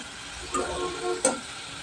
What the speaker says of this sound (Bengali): গ্যাস কমিয়ে রেখে এটাকে আস্তে আস্তে ভাজতে হবে